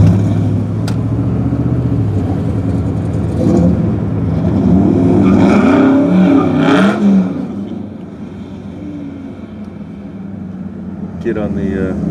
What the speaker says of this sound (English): Kid on the skateboard told the guy there in the Camaro on the right to smoke him.